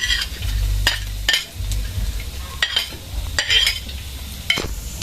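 Garlic for pancit canton fries in a pan with a close crackling sizzle, broken by sharp scraping clacks of a utensil stirring against the metal every second or so, with no talking.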